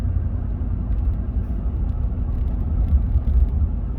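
Steady low rumble of a car driving home at night, a continuous interior road drone with no voices.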